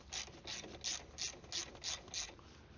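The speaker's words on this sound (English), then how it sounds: "I will tighten the remaining 4 bolts and I will be done with it." A ratchet wrench tightens bolts on a KTM 390 Adventure X motorcycle: seven or so quick, even bursts of metallic clicking in a steady rhythm, close and fairly quiet.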